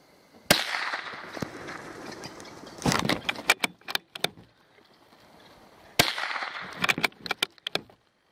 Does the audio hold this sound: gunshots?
yes